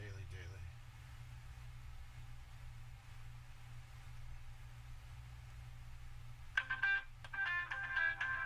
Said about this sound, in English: Just real quick, I got a phone call coming in.